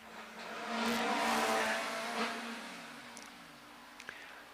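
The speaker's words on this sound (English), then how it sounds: "driving a 2-litre racing car up Shelsley" A racing car with a Vauxhall 2-litre engine climbs the Shelsley Walsh hill, its engine swelling loud as it passes close, then fading with brief tyre chirps as it recedes up the course.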